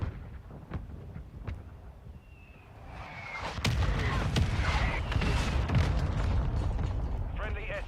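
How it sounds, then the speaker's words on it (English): Mortar strike explosions in Call of Duty Modern Warfare II: after a few scattered sharp cracks, heavy rumbling booms and blasts roll in and build to a dense, loud barrage with game voices over it. "Friendly mortar strike on the way."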